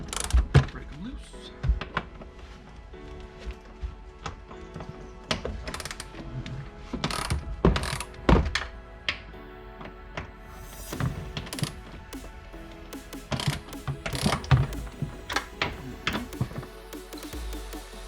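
Ratchet clicks in quick bursts as bolts on a Ford Focus side trim panel are broken loose, close and fairly quiet, with short pauses, scattered clanks of tools and a voice talking between the bursts.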